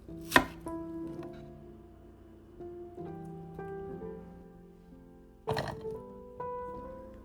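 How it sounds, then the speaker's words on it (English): Two sharp knife strikes on a cutting board while onion layers are cut into pieces, set against a quiet tonal background with faint clinks in between. "Cut the outer layers a little smaller to keep all the pieces about the same size"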